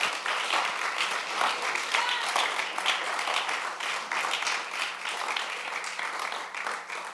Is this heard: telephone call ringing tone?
no